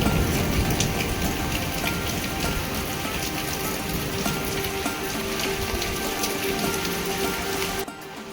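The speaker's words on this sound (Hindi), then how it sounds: "तो अभी आप देख सकते हैं लगातार बारिश जारी है" Heavy monsoon rain in a Uttarakhand mountain village pours steadily and densely, a continuous loud hiss of drops on surfaces that cuts off abruptly near the end.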